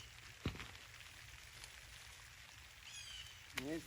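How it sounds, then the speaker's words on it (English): Rain patters steadily and softly outdoors, a faint continuous hiss with a few louder nearby drops and brief bird calls. "It's starting back to raining."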